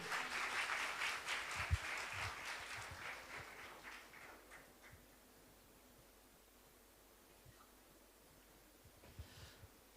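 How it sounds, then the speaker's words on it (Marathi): Students clapping for their teachers at a mental health awareness event, a burst of applause from a crowd that fades out after about four seconds, leaving low room noise with a few faint claps near the end. "जोरात अजून टाळ्या होऊन देत"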